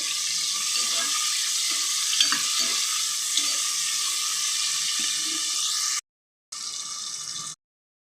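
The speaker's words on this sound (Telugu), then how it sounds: "ఉల్లిపాయలు బాగా ఫ్రై చేసేసుకోవాలండి" Three medium onions frying in a pan for a mutton malai curry, a steady broadband sizzle with occasional stirring scrapes, close and alone, briefly cutting out twice near the end.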